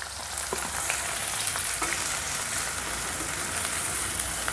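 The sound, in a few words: green chillies and onions frying in oil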